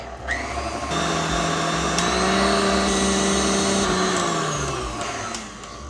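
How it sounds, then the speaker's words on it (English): An electric mixer whisks meringue with vanilla and white vinegar for strawberry pavlovas, giving a steady, loud motor whir that holds for several seconds with slight shifts in pitch. "We'll just whisk that in for another minute"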